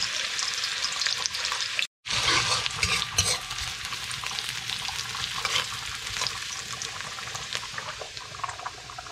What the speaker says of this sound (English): Okay, adding some oil here, guys. Onion first. As usual, I'm gonna fry this up a little bit.